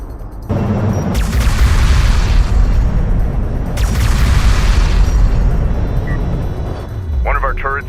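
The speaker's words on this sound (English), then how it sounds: "One of our turrets is taking fire. AA turret taking fire." Heavy explosions and turret fire rumble through a battle in the strategy game Homeworld: Deserts of Kharak, loud and sustained with two stronger blasts, ending as a voice speaks.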